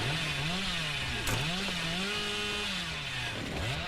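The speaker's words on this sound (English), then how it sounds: "I need to learn how to properly use this chainsaw" The Hillbilly's chainsaw in Dead by Daylight, a loud buzzing engine revving up and down in waves, rising and falling in pitch continuously and heard close with no talk over it.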